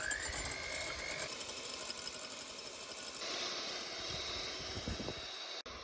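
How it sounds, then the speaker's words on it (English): An electric mixer beats egg whites for tiramisu with a close, steady, high-pitched whir that runs continuously. The pitch shifts slightly partway through, and the whirring stops sharply at the very end. "you take the whites of the egg and we start beating them"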